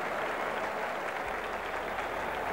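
Roar of a 27,000-strong crowd at a 1987 one-day international cricket match in Australia, cheering and applauding a six: a dense, steady wash of applause and crowd noise throughout.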